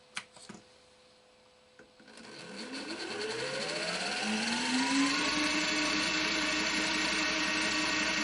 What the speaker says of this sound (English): On a mini lathe.